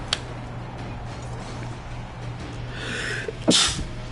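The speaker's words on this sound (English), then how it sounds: "Oh, I sneezed." A single close, sharp sneeze from a man near the end, preceded by a quick inhale over a quiet steady room hum.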